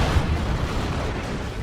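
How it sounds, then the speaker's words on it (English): Explosion in the Dawn of War 2 strategy game, a dense low rumbling blast that fills the whole moment at steady loudness, with no voices over it. "Another explosion."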